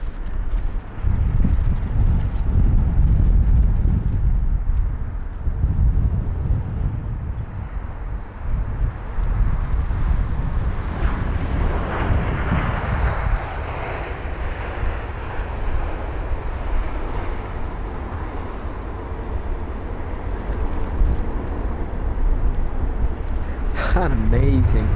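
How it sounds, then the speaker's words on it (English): A four-year-old Airbus A350 airliner touching down at London Heathrow: a steady, loud roar of engines and rushing wind that swells and fades across the runway, with a voice talking over it. "What a smooth touchdown."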